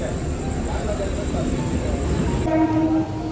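A Mumbai suburban local train rumbles steadily at Nalasopara station, with a brief tonal horn or whistle near the end over continuous rail noise.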